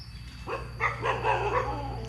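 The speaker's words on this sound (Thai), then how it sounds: "โอ้เห่าแบบนี้นี่ น่ากลัวด้วยเนี่ย" Barks from a dog at a boatyard, several yelps spread over a couple of seconds, moderately near above a steady low hum.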